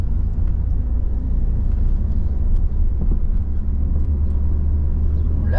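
Steady, loud low engine and road rumble from inside a car pulling away gently during a driving lesson, continuous with little change in level and no talking.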